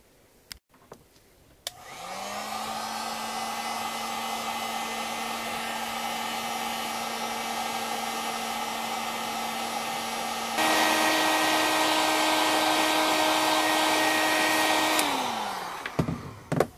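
A heat gun drying a zinc sulfide solution runs as a steady, loud whirring roar for about fourteen seconds, stepping up in pitch partway through before winding down, with a few clicks before and after.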